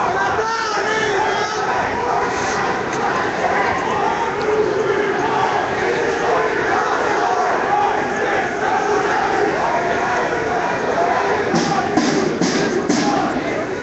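A large, loud crowd at an anti-austerity street protest in Montreal, with dense, continuous shouting, chanting and babble of many voices close around, steady in intensity throughout with occasional sharper cries.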